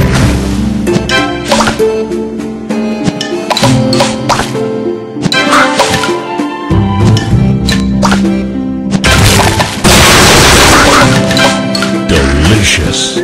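Bright, busy game-board effects from Candy Crush Saga, with repeated crackling pops, crunchy bursts and a louder blast near the end, layered over a cheerful music bed, close and loud throughout.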